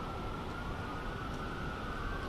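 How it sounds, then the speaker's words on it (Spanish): An ambulance siren passing in a city street, heard as a steady continuous wail at moderate level throughout, with no speech over it. "Alex, esta ambulancia no es absolutamente nada"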